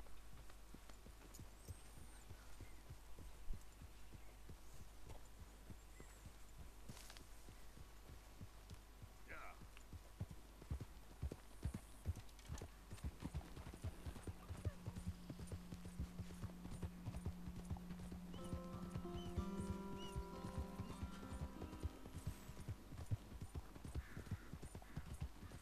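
A horse's hooves clip-clop in a steady rhythm as it sets off, moderately close over a low background hum, with occasional faint voices.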